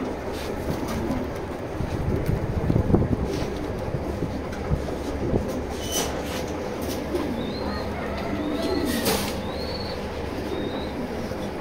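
Racing pigeons coo softly amid a steady, rumbling background noise, with a few faint higher chirps now and then.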